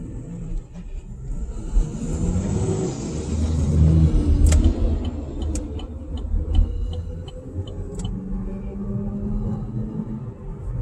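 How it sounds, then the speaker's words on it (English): A Class 8 truck engine running while stuck in first gear, a deep continuous rumbling drone at steady loudness with small ticking and rattling sounds throughout. "Truck is stuck in first gear here."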